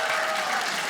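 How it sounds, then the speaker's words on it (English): A comedy-show audience breaks into dense, continuous applause, a steady wash of many hands clapping together at close range. "you should clap"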